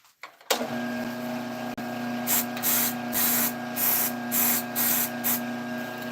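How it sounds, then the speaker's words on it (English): A spray can mists glue onto a woodturned triangle top in about six short hissing bursts, close and fairly loud, over a steady mechanical hum. "We will spray it."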